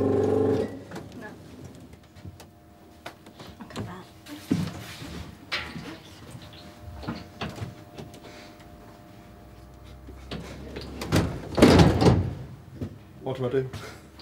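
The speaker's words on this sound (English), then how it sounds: "She's got to be able to open doors on the aircraft." An aircraft door is worked open during a cabin crew training test, with scattered clunks and a louder mechanical burst near the end, heard amid ongoing talk and movement.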